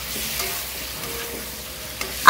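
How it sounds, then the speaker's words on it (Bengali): Squash and potato stir-fry with spices in a pan, giving a steady sizzle and soft scraping stirs, with a sharper clack near the end and no talking. "স্কোয়াশ আর আলুটা দিয়ে খুব ভালো করে ভাজা ভাজা করে নেব"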